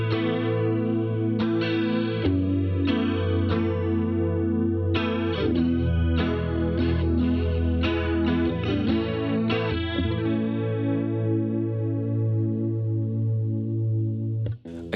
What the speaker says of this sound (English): let's compare that with the Brigade chorus